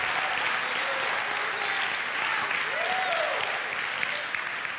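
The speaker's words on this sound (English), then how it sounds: "give the Lord a clap of praise for the next 30 seconds" Church congregation applauding in praise, a dense steady wash of many hands clapping at moderate volume, with faint voices and a few brief vocal exclamations rising over it.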